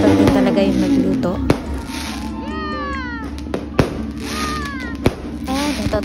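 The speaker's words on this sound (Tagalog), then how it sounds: "Nasa labas kami ng bahay at pinapanood namin itong mga fireworks." New Year's midnight fireworks going off outside a house, several sharp bangs at intervals over a constant crackling din, with whistling rockets rising and voices talking nearby.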